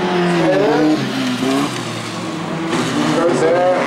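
Rallycross cars at a spring bilcross race in Hønefoss roar past with revving engines and tire squeal, loud and close, while a commentator talks over the passing cars.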